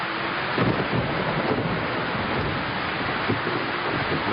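Heavy rain falls in a dense, steady roar during a storm, with low rumbling swells of thunder and wind gusting against the microphone throughout.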